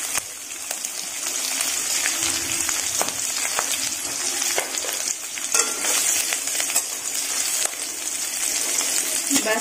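Garlic stir-fried with cumin and green chilies sizzles steadily in a hot pan for aloo gobi, with scattered clinks and scrapes of a spatula stirring throughout, close and continuous, no talking.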